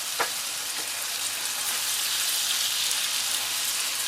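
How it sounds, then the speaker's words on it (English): King prawns and onions sautéing in a pan give a loud, dense, continuous sizzle like heavy rain, close and steady, with a single faint knock near the start and no speech. "we can then throw our onions in and start to saute them down"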